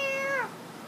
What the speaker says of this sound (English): everyone say bye to our favorite cat, Dusty